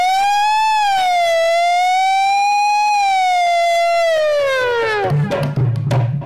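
A voice imitates the rising and falling wail of a minister's vehicle siren in one loud, sustained sweeping tone, which breaks off into brief talking at the end.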